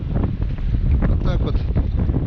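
Strong wind buffets the microphone on a boat while perch fishing, a loud, continuous low rumble with water noise, and someone briefly speaks over it.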